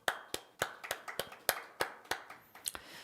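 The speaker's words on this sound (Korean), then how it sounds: "우리가 이 시간 박수로 감사의 표현을 하도록 하겠습니다." Congregation clapping during a Sunday Christmas-season church service, about a dozen sharp, distinct claps spread unevenly over a few seconds, fairly sparse and close, with no talking over them.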